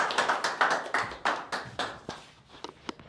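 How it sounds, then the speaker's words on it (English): An audience claps together to welcome a speaker at a group discussion session, a steady run of sharp hand claps close by that thins into a few scattered claps toward the end. "Welcome him by your clap"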